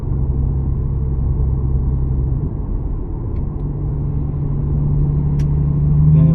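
A Lexus IS with an axle-back exhaust drones heavily from inside the cabin, a deep, steady rumble that rises a little in pitch and loudness near the end as it accelerates onto a highway.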